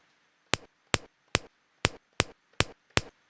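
Seven sharp, hollow glassy knocks from a bottle used as a kick drum, struck one by one at a steady beat, each short and percussive with a brief ring, heard alone in silence.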